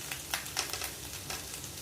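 Boiled tomatoes frying for a mango, curry leaf and tomato chutney, a steady close sizzle with soft stirring scrapes, no voices.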